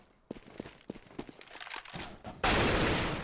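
AK rifle fire in a competitive Counter-Strike match, a few sharp shots and footsteps followed by a sudden loud burst of gunfire at the end.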